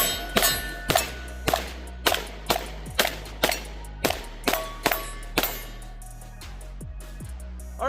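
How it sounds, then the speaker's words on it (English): Roughly a dozen sharp pistol shots from a Smith & Wesson Shield Plus, fired at a steady, fairly quick pace with ringing echo after each crack, alone and nearby, during an outdoor velocity test. "Let's do a little shooting with this Shield Plus really quick."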